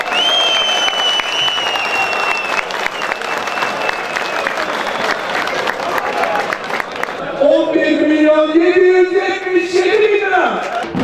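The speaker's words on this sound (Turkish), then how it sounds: "Değerli ağamızı şöyle coşkuyla alkışlıyoruz." An enthusiastic crowd applauds and cheers at an oil wrestling festival event. The clapping is loud and steady throughout, with a voice talking over it and sustained music tones coming in toward the end.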